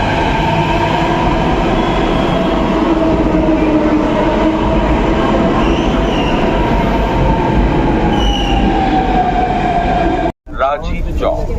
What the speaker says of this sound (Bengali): এই যে ট্রেন আইসা বললো মেট্রো।